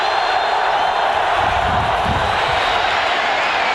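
Stadium crowd at a 1994 Raiders at Chiefs football game keeps up a loud, continuous roar of cheering, a dense and even wall of voices with no single voice standing out.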